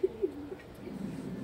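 Close, soft pigeon coos come in a short series of low, throaty pulses, then settle into a quieter murmuring coo.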